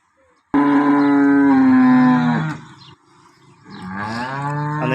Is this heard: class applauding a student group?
no